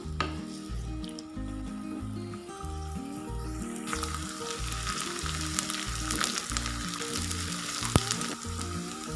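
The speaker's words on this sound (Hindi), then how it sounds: "प्याज, और इनको हमने अच्छे से फ्राई कर लेना है।" Onions frying in cooking oil in a pan give a steady, close sizzle throughout, with occasional stirring clinks and a brighter crackle building partway through; no one speaks.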